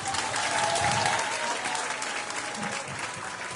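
Audience applause at a political rally for the PDP Laban senatorial slate, a thick and loud wash of clapping from a large crowd that holds steady and eases off only slightly toward the end.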